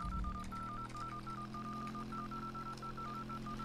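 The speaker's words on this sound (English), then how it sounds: "if you keep hitting the space bar, it'll actually do the dial tone on the phone" A phone dial tone from the video game Moonwave Overdrive hums steadily and clearly, carrying alone over a low background drone.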